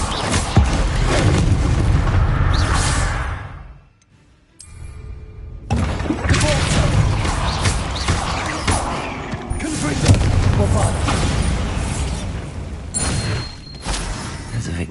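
A Bombarda spell in Hogwarts Legacy sets off loud, crashing blasts with shattering debris. There is a brief near-silent gap in the middle, then a renewed barrage of booming, breaking impacts.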